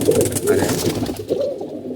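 Domestic pigeons coo in low, rounded, throaty bursts that repeat steadily and fill the space close by, with some rustling around them.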